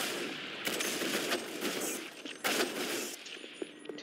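Gunfire in the Roblox game Blackout, with a couple of loud broadband shot bursts standing out against a dense, noisy background of in-game sound, no talk over it.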